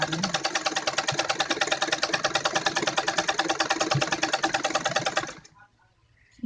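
A sewing machine stitching kurti lining fabric runs in a fast, even rhythmic clatter for about five seconds, then stops abruptly into near silence.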